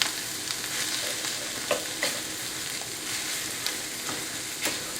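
Sloppy joe mixture with mustard and Worcestershire sauce being stirred in a sizzling pan, a steady frying hiss broken by soft, irregular scraping strokes, with no talking.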